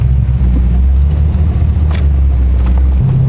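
A car engine idles loudly with a deep, steady exhaust rumble, close by, then the tone steps up slightly near the end.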